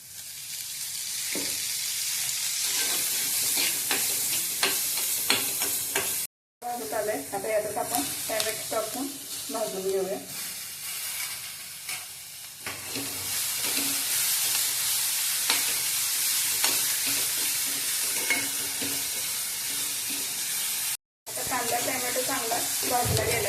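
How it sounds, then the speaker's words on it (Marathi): Onion roasts in oil for a Malvani chicken rassa, a continuous hissing sizzle with stirring clatter, interrupted by two brief cuts to silence. "आपण आता कांदा भाजून घेऊया"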